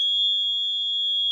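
A steady, continuous electronic buzzer tone, high-pitched and clean, holding at an even level from start to finish with nothing else heard.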